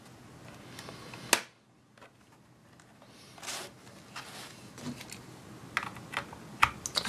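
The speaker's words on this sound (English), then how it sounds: "we just need to get in and unclip the plastic along here" Plastic panel clips are pried loose on a Dell Inspiron 15-3521 laptop: one sharp snap stands out early, followed by a series of quieter close-up clicks and scraping ticks, all fairly faint.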